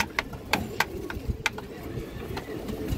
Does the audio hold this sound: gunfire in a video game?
no